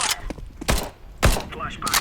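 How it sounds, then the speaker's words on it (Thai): Gunfire in the video game Counter-Strike 2: a few loud, sharp bursts spaced about half a second apart. Quieter clatter and some voice-like sound run between the shots. "เสียงปืนดูเบาลง"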